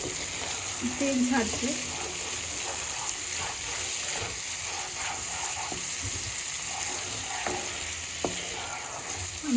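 Mutton frying in oil for mutton kosha, a dense continuous sizzle and bubbling with scraping as it is stirred, close and fairly loud, alone without speech.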